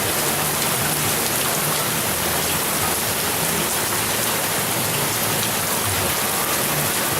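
Torrential Tropical Storm Andrea rain drums continuously outdoors by a seawall, a thick, even roar of downpour that stays loud throughout, with no talking.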